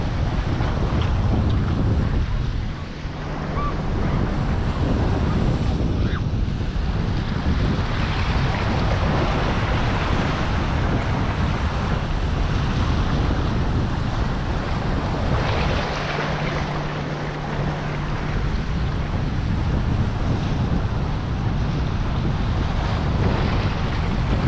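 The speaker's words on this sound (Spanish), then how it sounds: "mucha piedra y hay olas altas" Waves breaking on a rocky beach at Long Branch with high surf, a steady roar of surf mixed with heavy wind buffeting the microphone throughout, loud and continuous with no talking.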